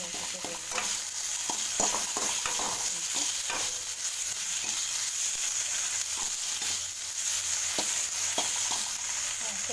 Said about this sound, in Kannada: ಸ್ವಲ್ಪ ಫ್ರೈ ಮಾಡಬೇಕಿದನ್ನು ಸ್ವಲ್ಪ ಫ್ರೈ ಮಾಡಬೇಕು